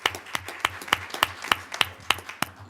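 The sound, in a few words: applause at a board meeting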